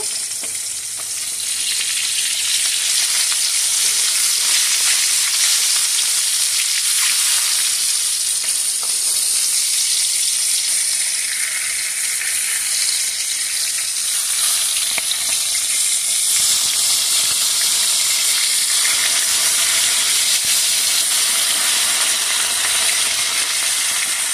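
Puti fish frying in a pan, a loud continuous hiss and crackle of hot oil that holds steady throughout with occasional bursts of stirring, no voices.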